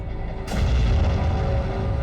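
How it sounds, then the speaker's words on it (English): A large explosion set off by the MythBusters team bursts in suddenly after a brief quiet stretch, then a loud, deep blast rumbles on steadily to the end, with no voices. "And this explosion is worth its weight in gold."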